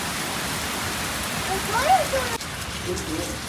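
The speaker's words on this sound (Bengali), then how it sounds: "দেখুন বৃষ্টি জোর বেড়ে গেছে" Heavy rain pours down steadily, a dense, continuous hiss of drops on surfaces, with a faint voice briefly audible underneath.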